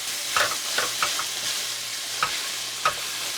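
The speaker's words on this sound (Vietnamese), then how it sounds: "Xào đều lên cho tan gia vị" Pork stir-fried with seasoning sizzles steadily in a pan, with several sharp clinks and scrapes of stirring standing out above the constant close frying hiss.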